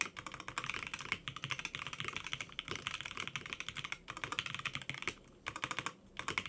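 Steady, fast typing on a Ducky One X induction mechanical gaming keyboard with pre-lubed switches, dense clacking keystrokes close up with a couple of brief pauses, no voice.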